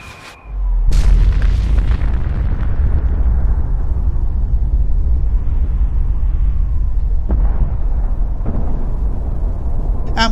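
A massive bomb detonation in Fallout 4 erupts with a sharp boom, then rolls into a long, deep rumble that fills the remaining seconds with a few later crackles.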